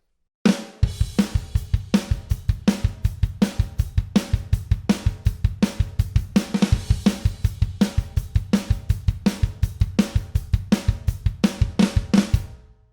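A drum kit plays the intro of a song, with driving kick and snare hits under steady crashing cymbals in a fast, even groove. It is loud and close, with no voices, and ends on a sharp stop.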